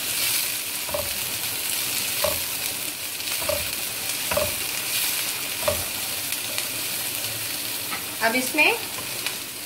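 Carrots and other chowmein ingredients sauté lightly in a hot pan, giving a steady broad sizzle with regular scraping stir strokes about once a second. A brief spoken phrase cuts in near the start, and clinks sound toward the end.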